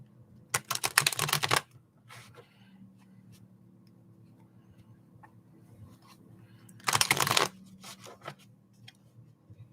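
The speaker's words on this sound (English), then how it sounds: "Let me give a few extra shuffles for Terry here." Tarot cards being shuffled by hand in two distinct bursts of rapid riffling, one near the start and one later, with quiet handling between them; close and clear, no talking.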